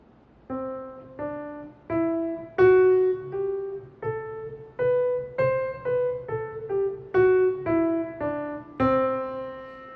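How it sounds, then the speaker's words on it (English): A C Lydian scale played as a slow ascending and descending run of single plucked notes, each ringing clearly, played alone at a moderate, even pace. "So C Lydian sounds like this."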